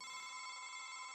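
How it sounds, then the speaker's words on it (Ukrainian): A cartoon telephone rings with a steady, bright electronic trill that holds evenly and close for the whole moment, with no voices over it. "а чи це телефон?"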